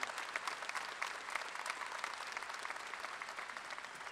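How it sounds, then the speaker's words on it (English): Applause from the audience at a university spring commencement ceremony, honoring a state governor; a broad, even wash of many hands clapping, heard from a distance and fairly faint, steady throughout. "if you'd join me in a round of applause for Governor Edwards"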